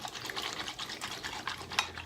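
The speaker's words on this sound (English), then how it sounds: "Then you just start moving your hand back and forth and let the water suds up." A harmonica reed plate is swished by hand in a dish of warm soapy water, giving close, rhythmic sloshing strokes that end with a sharper splash.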